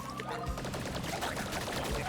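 Rapid bursts of gunfire as a character shoots downward in the pixel-art action platformer Grapple Dogs: Cosmic, dense and continuous over busy game music and effects.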